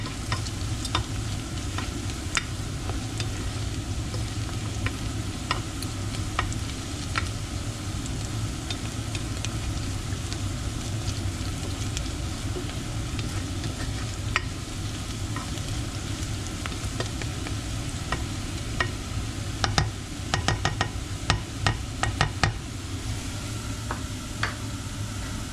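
Spices for butter chicken are stirred and mixed in a hot frying pan, with a steady sizzle running underneath and repeated sharp scraping clicks of the utensil, growing busier toward the end.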